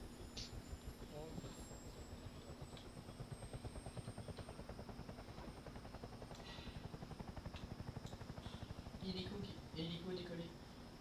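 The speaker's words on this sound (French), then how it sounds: "Il a décollé L'hélico" Helicopter in the Roblox game BRM5 taking off, its steady rhythmic rotor chop and turbine whine running throughout at moderate level, with voices talking over it.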